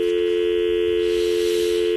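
An unanswered phone call rings out through the handset, a loud steady electronic tone held without a break over faint background noise.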